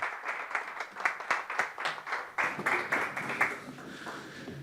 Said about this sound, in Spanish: Así que un fuerte aplauso para Héctor y los dejo en buenas manos.